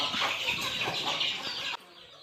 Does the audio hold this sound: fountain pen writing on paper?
no